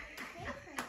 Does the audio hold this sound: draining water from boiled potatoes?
no